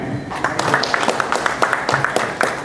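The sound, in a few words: audience applause at interview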